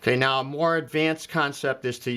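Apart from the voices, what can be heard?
No distinct noise like a dog, phone or traffic.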